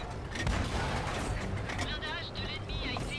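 Tank cannon fire from an AMX 13 57 light tank shooting at a Kraftfeldzeug Panzer in World of Tanks on PS4, heavy booming shots layered with engine rumble and battle noise throughout.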